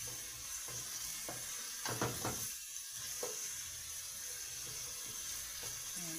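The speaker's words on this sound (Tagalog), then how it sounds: "Luto-luto na, mas maganda yung medyo lutong-luto yung bawang at ang sibuyas niya." Garlic and onion with pork ribs sautéing in a pan for lechon paksiw give a steady low sizzle, with a few brief clinks and stirring scrapes near and at moderate volume, and no talk.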